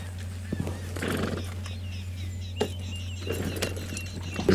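Horse in a video game, neighing and whinnying with clip-clop hooves on the ground, close and clear over a steady low hum.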